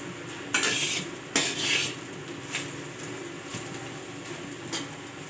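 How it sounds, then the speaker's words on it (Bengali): Round potato slices stirred and fried in a pan, with a few scraping strokes against a steady soft sizzle, close by. "এখানে চলছে আজকে গোল গোল করে আলু ভাজা"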